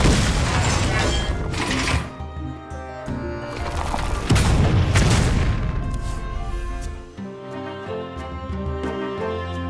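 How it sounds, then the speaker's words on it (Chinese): Bomb explosion in a Hearthstone match, loud booming blasts and crashing impacts with rumbling low end and game music tones after, no talk. "我给你准备了一颗炸弹。"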